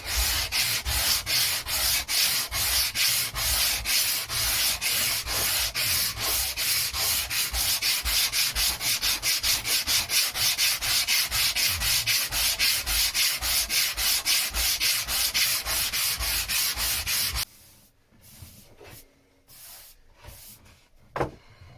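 Body filler being hand-sanded with a sanding block on a car body panel, fast rhythmic back-and-forth rasping strokes, loud and close, stopping abruptly near the end and followed by a few faint knocks.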